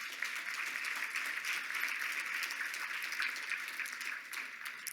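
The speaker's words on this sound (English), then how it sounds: "Can we have a round of applause for the CEO of Ruh?" An audience applauds a company CEO at a mental health charity event, producing steady, moderately distant clapping that lasts throughout without a break.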